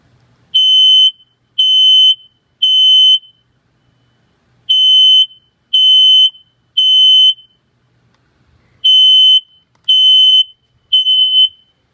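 Household smoke alarm under test, a loud piercing beep repeated in groups of three with short pauses between groups, nearby and with no other sound.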